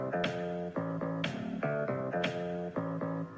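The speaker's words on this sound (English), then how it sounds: "a bass drum hit on the first beat of every measure" A bass line of short, punchy bass notes has a bass drum hit landing on the first beat of each measure, giving a steady pattern of accented thumps about once per second.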